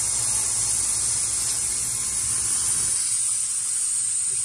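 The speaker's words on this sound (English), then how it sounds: "we do have a little bit of a leak at the turbo inlet" Pressurized air hissing from a leak around the turbo inlet clamp on a side-by-side, a loud, constant close-up hiss with a low rumble that drops away near the end.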